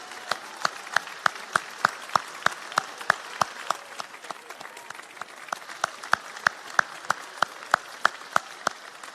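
A crowd at a college graduation applauding, brisk clapping with sharp individual claps standing out over a steady patter, holding at a moderate level throughout.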